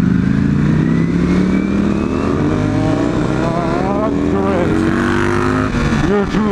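Ducati V4 motorcycle accelerating hard on a group ride, its engine note climbing in pitch through the gears close by, loud and continuous, with other bikes and traffic around.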